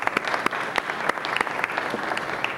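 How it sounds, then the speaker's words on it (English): Audience applause at a regular city council meeting, a dense, fairly close patter of many hands with individual sharp claps standing out throughout. "Let's give them a round of applause as well."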